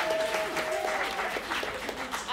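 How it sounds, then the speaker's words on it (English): A workshop audience gives a round of applause, continuous dense clapping throughout with a voice faintly present over it. "please give yourselves a round of applause for being so awesome"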